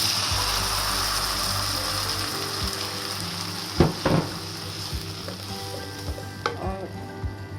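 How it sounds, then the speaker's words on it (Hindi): Garlic and onion sauté in a pan for a homemade pizza sauce, a steady bright sizzle with a few soft stirring scrapes and clinks, close and alone. "लहसुन प्याज को 30-40 सेकंड के लिए बस सौते करना है"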